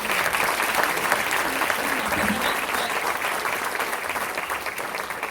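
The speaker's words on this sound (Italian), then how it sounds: "Quindi fategli un applauso" Dense, loud audience applause at a Palermo comedy evening, sustained and even for several seconds, a mass of overlapping claps from a large crowd.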